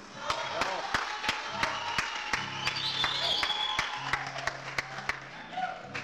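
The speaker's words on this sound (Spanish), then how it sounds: "con el aplauso de ustedes" Applause from a television audience for a singer at an afternoon show, scattered claps spread through the room with sharp individual hits standing out, moderately loud and mixed with background murmur and a faint musical tone.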